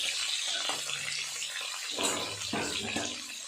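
Pointed gourd (potol) sizzles in hot oil in a covered pan, a continuous hissing crackle with brief louder bursts of spitting near the middle and toward the end, close and fairly soft, with no talking.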